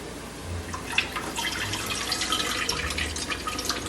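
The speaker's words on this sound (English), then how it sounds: "Drain the water." Water runs and trickles steadily, close by, with small splashes and drips as it drains off cooked rice through a strainer.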